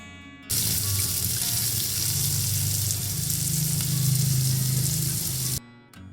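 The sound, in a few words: onions frying in ghee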